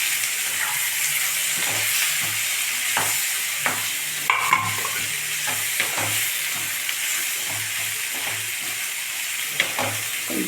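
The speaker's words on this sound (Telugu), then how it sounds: "దోసకాయ ముక్కలు అవి కొద్దిగా వేగిన తర్వాత" Cucumber pieces fry in a pan for a curry, a close, continuous sizzle punctuated by regular clicks and scrapes of a spoon stirring through.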